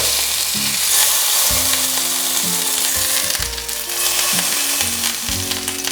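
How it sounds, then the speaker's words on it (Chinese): Salmon fillet sides sear in a hot frying pan, giving a loud, close, steady sizzle and crackle that runs the whole time over background music. "把4边稍微煎它一下"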